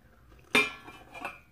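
Clean dishes and cutlery clink together in a kitchen, one sharp, close clatter followed by a fainter second clink, with no voices.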